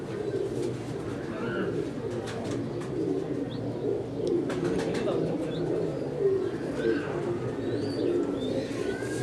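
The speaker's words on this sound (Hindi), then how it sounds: "ये भी बड़ा कमाल का कबूतर है।" Teddy pigeons coo softly and repeatedly, low throaty calls overlapping amid a gentle background murmur, with occasional higher chirps.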